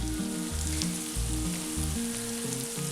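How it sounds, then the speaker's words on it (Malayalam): Crushed chili, chili powder and curry leaves fry in hot oil for chicken mezhukkupuratti, giving a steady, close, even sizzle across the whole stretch. "ഇനി ഇതെല്ലാം എണ്ണയിലൊന്ന് മൂപ്പിച്ചെടുക്കാം."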